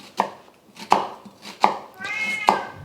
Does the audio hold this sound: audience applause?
no